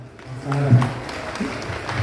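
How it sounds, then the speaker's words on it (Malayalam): An audience at a Mother Teresa Foundation stage event gives a short burst of applause for a speaker. The clapping is brief and moderate, mixed with a voice talking over it. "ആ വലിയ മനുഷ്യന് ഒരു നിറഞ്ഞ കൈയടി കൂടെ കൊടുക്കണം"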